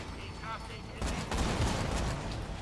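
Gunfire in the video game Borderlands 2, a dense burst of shots starting abruptly and rolling on loudly for over a second, preceded by a brief voice.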